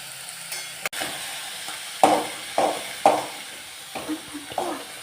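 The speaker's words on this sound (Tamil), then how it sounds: "இப்போ எண்ணெய் ஊற்றிக்கலாம்" Hot oil hits a pan while coriander chutney is being cooked, giving a few sharp sizzling bursts and stirring sounds spaced apart, with a clatter near the start and quieter crackles between.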